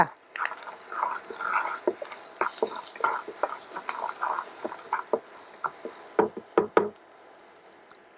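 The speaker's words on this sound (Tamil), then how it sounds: "கருவேப்பிலை நல்லா கழுவி ஆஞ்சு கழுவி வச்சுருக்கிறத அதையும் போட்டுட்டு முகத்தை கிட்ட கொண்டு போகாமல் படப்படங்கும்ல" Washed curry leaves dropped into hot oil while tempering a millet dish, giving close, irregular sputtering pops and crackles, with a few sharp bursts near the end before the sizzle dies down.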